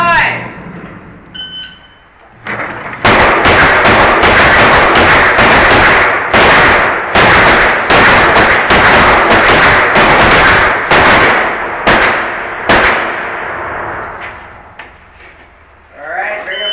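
Rapid volleys of loud Glock pistol shots crack out in quick succession at an indoor rimfire shooting match, booming with echo for over ten seconds before tapering off, with faint talk at the start and end.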